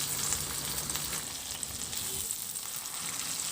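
Eggplant sautéing in a pan with soy sauce and oyster sauce, a steady close sizzle and crackle of frying with no talking.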